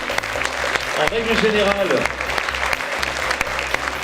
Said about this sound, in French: Moi j'aimerais qu'on les applaudisse chaleureusement